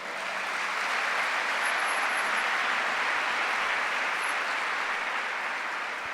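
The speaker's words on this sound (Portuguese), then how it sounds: "Dá um aplauso a ele" Sustained applause from a church congregation during a Sunday service, a dense, even wash of many hands clapping that holds steady at full strength throughout with no voices on top.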